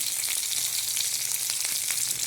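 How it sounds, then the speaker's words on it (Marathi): Bitter gourd fries in oil in a wok, giving a dense, continuous close sizzle with a rapid, uneven crackle running right through. "आपण सर्वप्रथम कारले चांगले असे फ्राय करून घेऊया"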